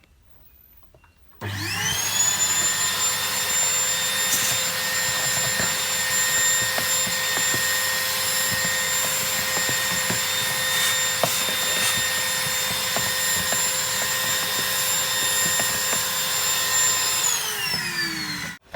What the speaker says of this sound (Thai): เดี๋ยวเรามาลองทดสอบหัวดูดฝุ่นที่เรา ทำ ขึ้นมานะครับจะลองดูดในซอกหลืบลึกๆดูนะครับ